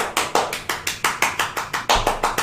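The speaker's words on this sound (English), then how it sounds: "You guys hear clapping." Steady, evenly spaced hand claps, about a dozen sharp slaps in a quick regular rhythm, close and fairly loud with no voices.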